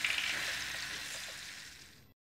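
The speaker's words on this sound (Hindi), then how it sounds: "अब हम एक पैन में तेल गरम करेंगे और उसमें पिसा हुआ टमाटर डालेंगे।" Ground tomato sizzling in hot oil in a pan for a palak paneer dish, a steady close frying hiss that fades slightly toward the end, with no voices.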